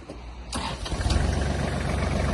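A Kubota GL-29 Japanese mini tractor fitted with an RL14AG rotary tiller has its engine started: a brief starter crank, then the engine catches and settles into a loud, close, rhythmic diesel idle.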